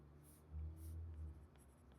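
Chalk or marker writing on a classroom board during a Korean English-grammar lesson, with faint scratchy strokes heard up close and quiet.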